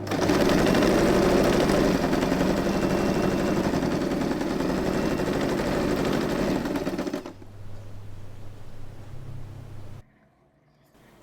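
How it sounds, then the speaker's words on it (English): A sewing machine stitching across the corner of a fabric zipper pouch, a fast steady whir of the needle running for about seven seconds, then slowing to a low hum before stopping. "We are going to sew exactly on this line."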